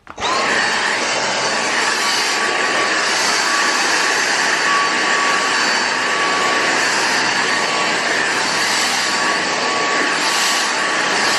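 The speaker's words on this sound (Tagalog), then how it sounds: "Ayan, kailangan ko yan i-vacuum." A Dyson vacuum cleaner runs steadily and loudly throughout, a high-pitched whine with a constant tone and broad airy rush, starting abruptly and holding steady, with no talk over it.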